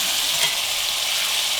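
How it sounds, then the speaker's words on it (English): Slices of meat sizzle steadily in an old cast iron pan, a dense, close crackling hiss that holds even throughout with no voices over it. "It's just a sizzling away."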